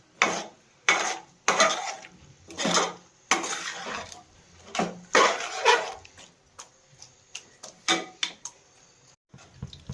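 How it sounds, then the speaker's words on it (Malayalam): A spoon scrapes and clanks around a pot of Kerala-style chickpea curry as spice paste is mixed in, loud metallic bursts in irregular rhythm with short quiet gaps between strokes. "നല്ലപോലെ ഒന്ന് ഇളക്കി മിക്സ് ചെയ്ത് കൊടുക്കാം അല്ലേ അമ്മേ? അരപ്പെല്ലാം നല്ലപോലെ ഇളകട്ടെ പാത്രത്തിൻ്റെ അകത്ത്."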